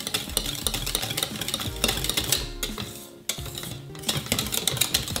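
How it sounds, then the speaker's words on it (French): A spoon stirs cold butter into hot pastry cream in a pot off the heat, making rapid clinking and scraping strokes against the metal in a steady, busy rhythm, close up with no talk. "je viens mélanger pour incorporer mon beurre"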